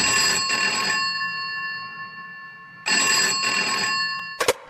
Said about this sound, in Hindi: उसके कमरे का लैंडफोन बजा